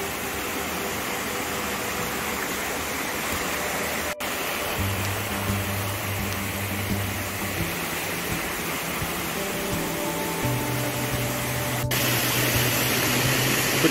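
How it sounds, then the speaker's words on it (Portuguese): A waterfall seen from its top at Cachoeira Arco-Íris, a rural falls near Quatro Barras, Paraná, pours in a steady, loud broadband roar that fills the whole span without pause, with low hums shifting underneath. "Aqui é a parte de cima da cachoeira."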